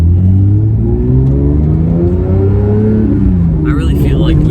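A manual Porsche 911 GT3 engine drones loudly from behind the cabin, its pitch rising and falling through the gears as the car is driven, with a voice talking over it near the end.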